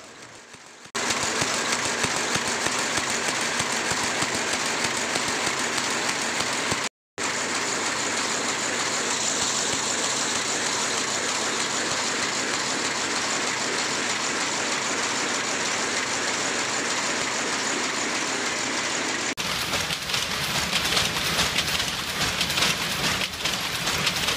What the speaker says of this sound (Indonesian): Gerakan maju mundur dari sisir tenun ini karena gerakan berputarnya poros engkol pada poros utama.